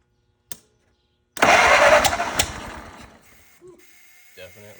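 A 104-year-old Ford Model T engine is cranked and briefly catches, a loud mechanical churning burst that fades into a few faint rattles and clicks.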